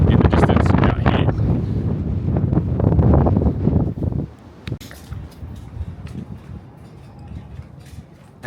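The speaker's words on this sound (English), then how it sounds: "it's actually super windy" Strong wind roars across the microphone on a high lookout above Broken Hill in the Australian outback. It is loud and heavy for about four seconds, then drops to a softer gusting.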